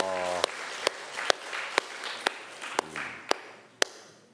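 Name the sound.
congregation applauding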